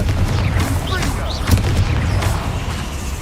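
Confringo explosive spell blasts in the video game Hogwarts Legacy: booming impacts and crackling bursts over a constant rumbling bed, with a sharper hit near the middle.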